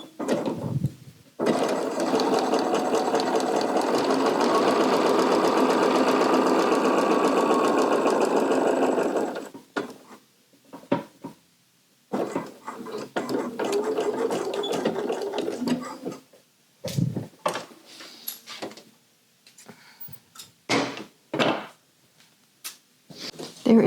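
Sewing machine running steadily for about eight seconds while stitching darts in a velvet coat, followed by several shorter bursts of stitching with brief pauses between them.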